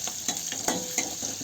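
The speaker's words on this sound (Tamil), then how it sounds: "பூண்டும் வெங்காயமும் நல்லா சேர்த்து நல்லா வதக்கிக்க போகிறேன்." Garlic and onion sauté in a pan for village-style cooking, giving a steady close sizzle broken by a few sharp scraping stirs.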